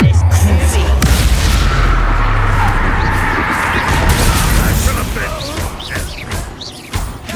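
Confringo and Bombarda explosion spells going off in Hogwarts Legacy, with loud booming blasts and crashing debris that rumble continuously, then fade into a softer tail.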